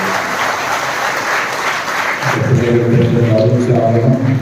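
A church congregation applauds children at a Catholic parish feast celebration, steady broadband clapping filling the space and growing fuller and denser partway through, with a low murmur of voices underneath.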